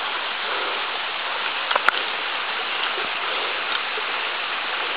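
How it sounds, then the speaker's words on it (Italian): A steady rushing roar of a waterfall on the Carigiola-Gavigno river, broad and continuous, with no voices. "Questa è un'altra cascata"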